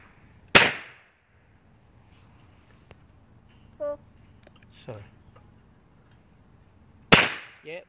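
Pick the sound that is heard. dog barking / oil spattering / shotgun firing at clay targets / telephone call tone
shotgun firing at clay targets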